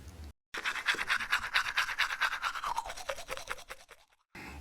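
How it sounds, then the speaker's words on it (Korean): A toothbrush loaded with strawberry toothpaste scrubs teeth in quick, rhythmic strokes close to the mic, steady and fairly loud, with short silent gaps at the start and end. "내가 좋아하는 딸기 치약을 칫솔에 짜고 양치질 시작."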